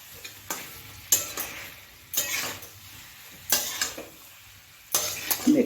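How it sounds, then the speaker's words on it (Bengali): Broccoli and potatoes with spices being stirred in a hot pan, a spatula scraping and clattering in irregular bursts about once a second over a soft steady sizzle, close by, with no speech. "ব্রকলিগুলো দিয়ে একটু মশলার সঙ্গে নাড়াচাড়া করব।"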